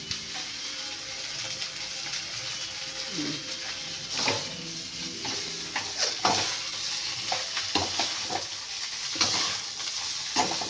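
Fried rice sizzles in a pan on high heat while a utensil stirs and scrapes it in irregular bursts, a continuous frying hiss under the clatter, close and fairly quiet.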